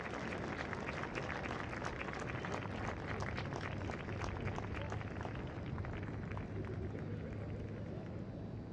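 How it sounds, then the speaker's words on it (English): Crowd applauding in a stadium during a delay in a Wake Forest vs. Florida State women's college soccer match while an injured player is carted off, a steady, dense and distant wash of clapping with broadband stadium noise throughout. "Crowd applauding as Dempsey is being put onto the cart now."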